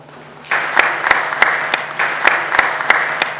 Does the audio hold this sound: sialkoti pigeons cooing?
no